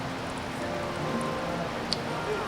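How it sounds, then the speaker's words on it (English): Rain falling outdoors during an overnight survival camp, a dense steady patter of drops on surfaces with a faint hiss, continuous and fairly close, with no voices. "And the rain is still coming down."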